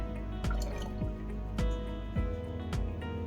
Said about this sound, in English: we're going to add 250 grams of evaporated milk and 200 mils of milk